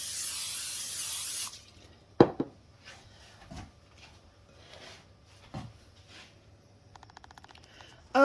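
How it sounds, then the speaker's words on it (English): Aerosol cooking spray hisses steadily for about a second and a half while a breakfast bake is prepared in a home kitchen, followed by a few scattered clunks and dish knocks. "Spray this up."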